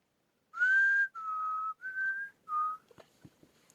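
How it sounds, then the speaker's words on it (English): A man whistles a short tune of four clear sustained notes, close and alone, followed by a few faint clicks. "Man whistling."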